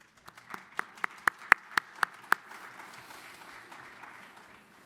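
Audience at a water users' conference claps, a handful of sharp, separate claps that swell briefly and then fade into scattered, faint clapping.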